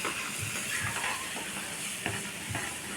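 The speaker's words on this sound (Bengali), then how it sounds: "একটু হলুদ গুঁড়ো আর একটু হলুদ দিয়ে তারপর জল দিয়ে খুন্দি করে নেড়ে দেওয়া হবে" Turmeric and water are stirred into a pan of ghugni, a potato and lentil curry, with a spoon scraping steadily through the mixture over a soft, continuous sizzle and hiss.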